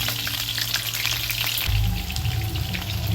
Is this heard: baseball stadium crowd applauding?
no